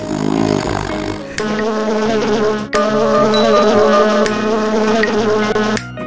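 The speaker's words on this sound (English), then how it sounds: "Bumblebee." A bumblebee buzzes loudly and up close, a steady droning hum with slight shifts in pitch continuing throughout, sounding alone.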